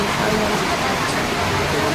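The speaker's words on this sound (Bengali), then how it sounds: "বৃষ্টির আকাশটা শুনে বুঝতেই পারছি ভালো বৃষ্টি হচ্ছে।" Heavy rain pours down steadily in a dense, even hiss of falling water, loud and continuous with no pauses.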